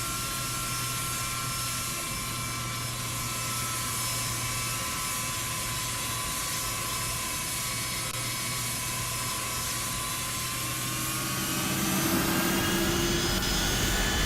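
Simulated Boeing 757-200 jet engines idle on a runway in X-Plane 12, a steady whine with high tonal hum over a low roar. Near the end the engines swell louder and the pitch shifts.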